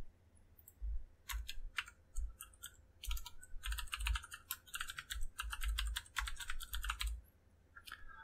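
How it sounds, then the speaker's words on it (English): Java code typed on a computer keyboard: close, brisk runs of clicking keystrokes in uneven bursts with short pauses, alone without talk. "Okay, I simply type"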